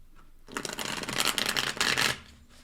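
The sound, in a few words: shuffling tarot cards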